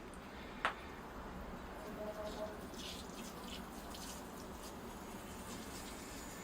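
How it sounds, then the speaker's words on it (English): Water is poured over the soil of a Portulacaria afra bonsai forest planting on a hot, humid day, giving a steady, even wash of flowing and soaking sound after a brief click near the start. "Okay, here I go with the water."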